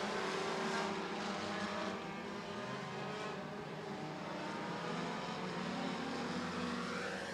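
SCDRA 4-cylinder race cars circling Beckley Motor Speedway, a continuous loud blend of revving engines with pitch rising and falling as cars pass, steady throughout.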